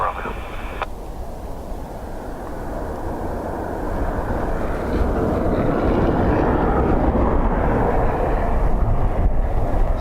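A fixed-wing aircraft lands on runway 28 left at Dublin Airport in gusty wind: a steady engine roar that builds and stays loud, with wind buffeting the microphone and a short radio chirp at the start.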